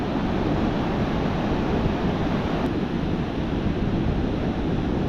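Powerful ocean surf pounds onto a flat, featureless beach with no gutters or structure, a loud, continuous wash of breaking waves with wind buffeting the microphone throughout.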